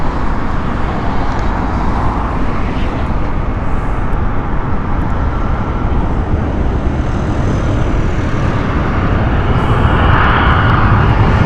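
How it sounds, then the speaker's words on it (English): A 2003 Airbus A320 arriving at Heathrow from Valencia roars steadily and loudly nearby, a dense low rumble with a whining upper band that swells toward the end. "On board is an Airbus A320 and it is 19 years old, 2003 this one."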